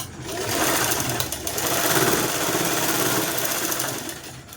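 A sewing machine stitches a blouse, its motor running in a fast, steady mechanical whir for several seconds after a brief start, close and fairly loud.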